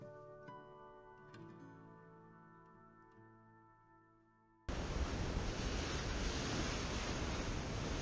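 Heavy ocean surf pounds a rocky coast in Acadia National Park, a loud, steady roar of breaking waves that bursts in suddenly after a quieter stretch of faint tones and ticks.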